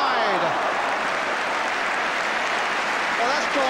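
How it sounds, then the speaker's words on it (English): Arsenal fans in the stadium break into steady, broad applause mixed with crowd noise, filling the short moment at a constant loud level with no break. "that's drawn some applause from the Arsenal fans"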